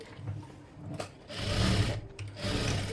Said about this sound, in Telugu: ఇలా కార్నర్లో స్టిచ్ వేసేసుకోండి